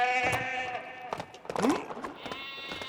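A sheep bleats in the LEGO The Hobbit video game, a wavering cry heard under someone talking over game music.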